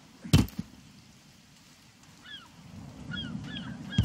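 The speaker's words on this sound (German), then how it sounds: "Du kannst die Vögel abwerfen, die Möwen." Seagulls in The Forest video game let out a few short, thin cries, mostly clustered near the end over a low ambient hum, with a couple of heavy thuds at the start and finish.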